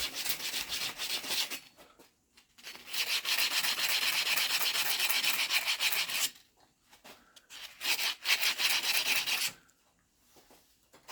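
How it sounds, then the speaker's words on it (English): Fine sandpaper rubbed by hand over the underside of a bicycle part during a cheap commuter bike rebuild, heard as close, steady scratchy strokes in three long bursts separated by brief pauses, with no talking. "Just a very fine sandpaper. Do the underside."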